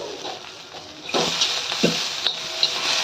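Peanuts and seven to eight garlic cloves roast in a pan for a Marathi besan thecha, a close sizzle with scraping stirs and soft wooden clatter, rising louder partway through.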